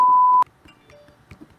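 An old mobile phone gives a steady high electronic beep lasting under half a second, cut off abruptly, followed by faint room noise and soft rustling.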